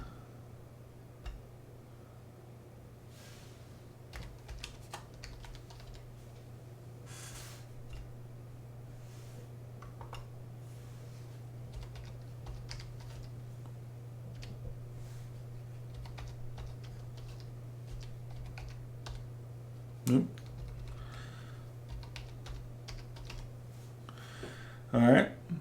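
Typing on a computer keyboard while setting up a Raspberry Pi 3B+, with scattered soft key taps over a steady hum and a couple of louder knocks near the end.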